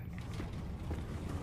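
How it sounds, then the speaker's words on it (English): A door creaks open in a Roblox horror game, a brief low mechanical creak over a dull rumbling background with no talking. "open the door on the other side"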